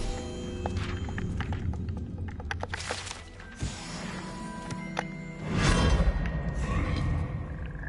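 A Leviosa spell is cast in the video game Hogwarts Legacy, giving layered magical whooshes and thumps with a swelling burst near the end.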